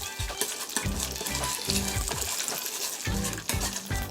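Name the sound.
meat frying in oil on an LG DIOS induction cooktop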